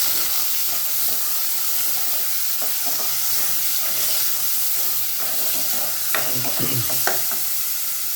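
Pork sizzles in a hot pan with onion and garlic, a loud, steady frying hiss with occasional stirring clatter near the end and no talking.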